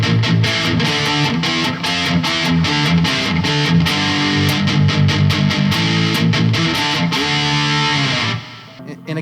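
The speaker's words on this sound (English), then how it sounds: "If we try a ultra metal distortion pedal," Heavily distorted electric guitar with PRS SE NF3 pickups, bridge position, through an Ultra Metal distortion pedal, driving a loud, rapid riff of chugging chords that cuts off near the end, leaving quiet.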